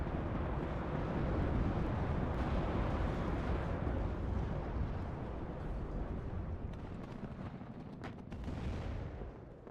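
Dense, continuous battle noise from the WARNO video game as a BMP-3 fires on an Abrams tank, a loud, steady rumble of artillery-like booms and gunfire filling the whole stretch with no let-up.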